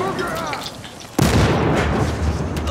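A grenade blast in Battlefield Hardline erupts loud and sudden, followed by rumbling debris and gunfire, with a voice heard before the explosion.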